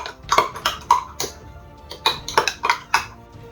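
A utensil stirring salad dressing in a bowl for Olivier salad with salmon, giving a run of clinking taps in uneven bursts, close and fairly loud, with short pauses between groups.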